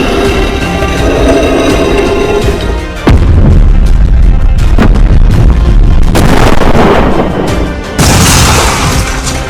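Heavy cartoon crash as a car, struck by a big thrown stone, is knocked far and slams to the ground: loud booming impacts and crashing bursts over a dense score, with sharp hits near three, six and eight seconds.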